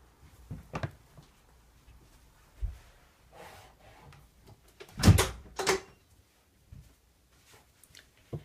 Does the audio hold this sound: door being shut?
yes